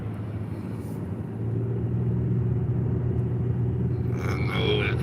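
A car cruises steadily on a quiet, wet night road after snow, rain and sleet, its low engine and road rumble swelling slightly and holding continuous, with faint brief higher sounds near the end.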